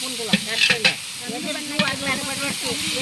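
Ginger garlic paste and onion fry in a pan with a steady sizzle, broken by several sharp scraping stir strokes near the start and middle.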